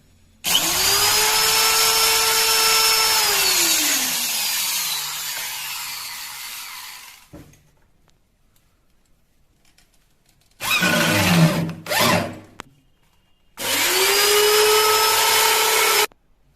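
A power drill drives screws while fitting a stainless steel basket into a modular kitchen cabinet, with loud whirring bursts that ramp down, a long pause, then two more close, strong runs.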